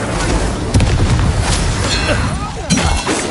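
Incendio fire spell cast in the Hogwarts Legacy video game, a loud booming blast with a fiery burst over dense game sound effects, with a short swoosh near the end.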